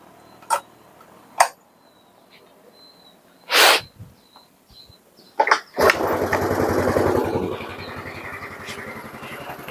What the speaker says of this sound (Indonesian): Untuk motornya 1 kali engkol udah nyala coy, 1 kali ceteng.